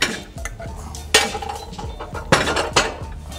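Cut pieces of date cookie dough being set onto a plate in a kitchen, giving a few sharp clinks and knocks of dough and utensils against the dish, close and fairly loud with gaps between, no talking.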